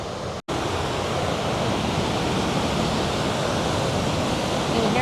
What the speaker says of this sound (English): you hear the thundering roar of the water